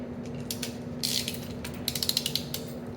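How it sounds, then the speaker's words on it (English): A torque wrench ratchets on 8mm cylinder bolts of a Polaris Indy 650 triple snowmobile engine, first a short burst of clicks, then a quick run of five or six crisp ratchet clicks, close and alone. "the next series of them is at 18 foot-pounds, the 8mm bolts."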